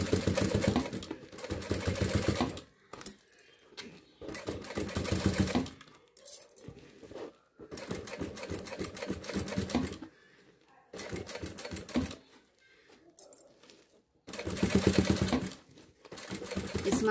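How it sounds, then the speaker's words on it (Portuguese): Domestic sewing machine stitching through several layers of sublimated fabric, running in repeated bursts of rapid mechanical whirring with short pauses between, fairly close. "Esse material de sublimado costura tranquilo numa máquina doméstica, tá?"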